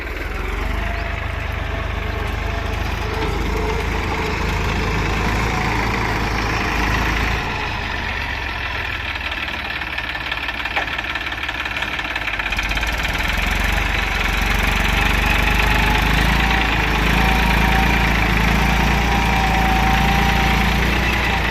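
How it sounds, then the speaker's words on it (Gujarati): A steady, throbbing tractor engine rumbles continuously at close range for the whole stretch, loud and unbroken, with a low knocking hum and no voices, on a farm field being ploughed. "અને જો ટ્રેક્ટર આવશે હમણાં"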